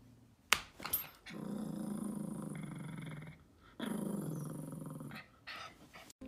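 A young puppy growls in long, low rumbling stretches broken by short pauses, close and fairly loud, with a brief sharp sound near the start and no talking.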